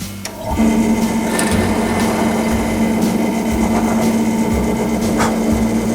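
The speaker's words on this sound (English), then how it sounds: "And drill the hole" A drill press motor hums steadily at a constant pitch while a bit grinds through wood, a continuous machine whine that starts abruptly and runs without pause.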